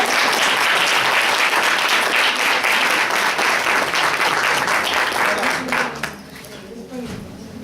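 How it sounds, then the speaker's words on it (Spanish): A conference audience at a pagan gathering breaks into loud, dense applause that fills the room, then thins and fades out in the last couple of seconds. "Un aplauso para ella, por favor."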